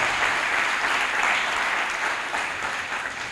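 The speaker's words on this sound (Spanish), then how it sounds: "Dele un aplauso al Señor" Church congregation applauding during a Spanish-language sermon, a dense, steady wash of many hands clapping together, loud and close throughout, fading slightly at the end.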